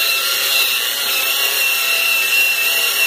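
Polishing machine buffing the paint of a stove at 2,000 RPM, a steady close whirring hiss with a bright high whine, continuous and loud throughout with no talk.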